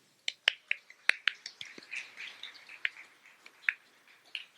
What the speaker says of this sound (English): we'll give him a round of applause anyways